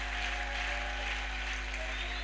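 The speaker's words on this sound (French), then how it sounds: "On accueille les amis avec une bonne offrande d'acclamation." A church congregation applauds to welcome guests, a steady wash of clapping that stays fairly quiet and sits over a constant low hum.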